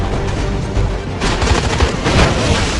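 Dense, rapid gunfire crackles continuously with booming low impacts, loud and chaotic like a cinematic shootout.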